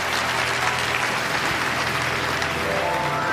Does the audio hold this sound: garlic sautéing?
no